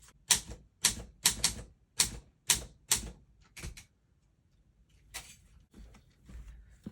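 Clacking keys on a typewriter, a burst of about eight sharp mechanical strikes in an uneven rhythm, a pause, then a few more scattered clicks and a soft carriage noise, close and crisp.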